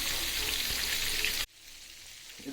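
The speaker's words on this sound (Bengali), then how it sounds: "মাছ আগে ভাজা হয়ে যাক" Fish fries in an oily pan with a steady dense sizzle that cuts off abruptly partway through, leaving a quiet hiss with no talking.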